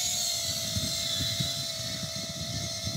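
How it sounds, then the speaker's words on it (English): A FullSpeedRC TinyPusher Nano cinewhoop drone's propellers whir with a steady high-pitched motor whine and tonal hum, buffeted by gusty wind rumble throughout, with no talk. "You can kind of hear the drone props react to the wind there."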